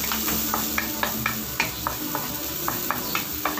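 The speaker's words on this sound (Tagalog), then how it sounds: "Pupunin lang po natin yung ating bawang dito. Halo-haloin lang natin." Garlic sizzles in olive oil in a pan as it is stirred for a stir-fry of sardines with broccoli, with a steady frying hiss and regular scraping strokes of the spatula close by.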